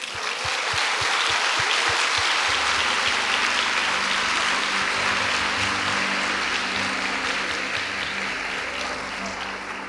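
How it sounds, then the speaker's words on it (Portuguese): Loud, sustained applause from a large church congregation, with a few rhythmic claps at first that blend into a dense roar and slowly fade. "celebre a vida dele com uma salva de palmas"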